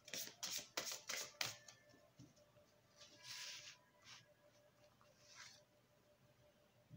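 Oracle cards being shuffled and drawn by hand, a burst of quick close riffling flicks at the start, then softer sliding and rustling of the cards, quiet with no talk.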